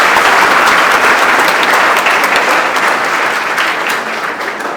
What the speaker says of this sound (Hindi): इसलिए बहुत जोरदार ताली बजा के स्वागत करें